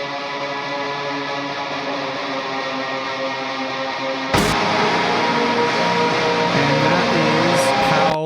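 Layered electric guitar tone soaked in heavy reverb, with tremolo and added octaves, ringing as sustained washy chords that thicken and grow louder partway through.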